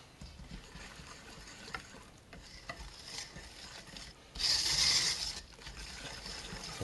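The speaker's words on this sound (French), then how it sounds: "Là, on va encore mélanger un coup." A cocoa and cinnamon mixture for Basler Brunsli being stirred in a bowl gives a soft, steady scraping and rustling. A louder, denser burst of mixing comes about two thirds of the way through.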